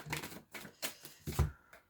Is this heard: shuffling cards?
yes